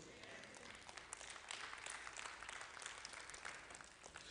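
A church congregation applauds steadily, a dense wash of many hands clapping at moderate distance, sustained without a break.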